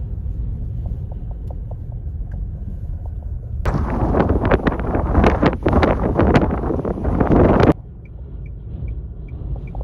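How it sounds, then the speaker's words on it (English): Inside a moving car on a Texas highway, a low steady rumble swells into a loud gusting roar of strong wind buffeting and shaking the vehicle for several seconds, then drops back. "Yeah, the wind is intense."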